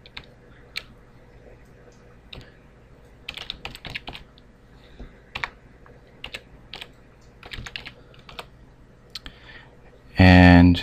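Keys clatter on a computer keyboard in scattered short bursts of clicks, fairly close but moderate in level, with quiet gaps between bursts and a sudden loud noise at the very end.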